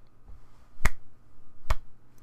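Two sharp, isolated claps or snaps spaced under a second apart, close and loud against a quiet background, from one person finishing a Climatic Survival game session.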